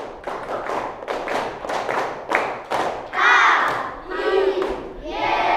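A class of children clap a patterned rhythm of quick, uneven bursts, then break into loud unison shouting over the last few seconds, close and energetic.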